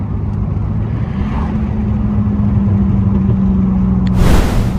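A muffler-deleted 2002 Pontiac Grand Prix GT rumbles with a loud, droning low exhaust note from inside the car while downshifting, ending in a brief sharp rushing burst.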